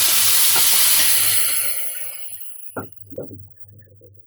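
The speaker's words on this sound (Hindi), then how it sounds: "फिर मैंने प्यूरी बनाई थी पालक की और धनिया थोड़ी सी मिर्ची डालकर, उसको भी इसमें डाल देती हूँ।" Spinach puree blended with coriander and a little chili poured into a pan of sizzling fried masala for palak paneer, a loud hiss fading after about two seconds, then a few soft stirring scrapes and plops.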